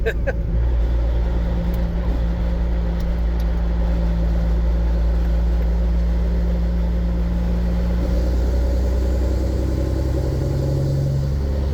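A 1989 Peterbilt 379 truck with a straight-piped CAT 3406B engine roars in a deep, loud, continuous rumble heard from inside the cab, steady throughout.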